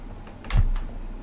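A single close keypress on a computer keyboard, a short soft clack followed by a faint second tap.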